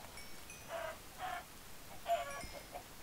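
Minecraft-style chicken clucking in a video game, three or four short, quiet clucks in an uneven rhythm over a low background hiss, with no talking.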